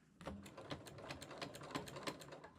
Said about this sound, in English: you're just going to sew kind of real close to the edge.